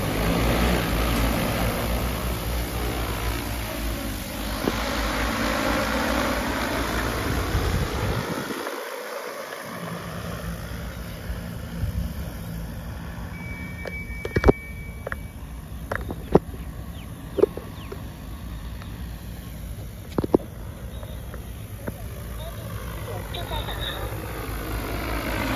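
XC30 agricultural drone taking off and flying, a steady whirring rotor drone that persists for the whole stretch, with a few sharp clicks along the way and someone talking.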